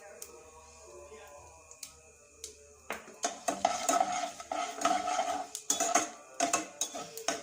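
Cumin seeds roast in a pan with a light sizzle while a utensil scrapes and clinks against the metal in irregular, fairly close strokes, beginning softly and growing busier.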